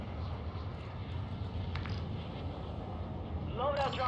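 Loadout drop aircraft in a video game, heard as a continuous low, steady engine drone with a brief higher-pitched sound near the end.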